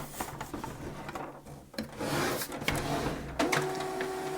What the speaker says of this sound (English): The printer will power on by itself after you connect the power cable